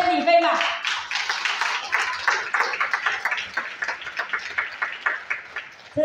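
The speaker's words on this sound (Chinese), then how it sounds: "我们首先要给个热烈掌声给我们今天晚上的 MC" An audience at an evening business event claps for the MC, a scattered round of hand claps close by that thins out over several seconds, with a voice heard briefly at the start.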